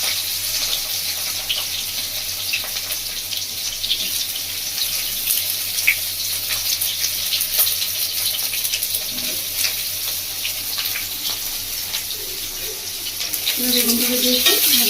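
Cut eggplant and chopped green chillies frying in oil in a pan, a continuous close sizzle with light stirring, and a brief voice near the end.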